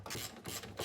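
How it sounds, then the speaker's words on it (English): A ratchet works loose the bolts on a Toyota MR2 with a quick run of close-up mechanical clicks in bursts, and no talking. "I'm going to undo these bolts and see what's what"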